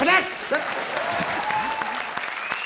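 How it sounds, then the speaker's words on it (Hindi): Studio audience at a televised comedy show clapping in a steady burst, with voices and laughter mixed in over the applause. "ठोको ताली इसके लिए।"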